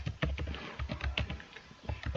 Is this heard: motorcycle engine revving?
no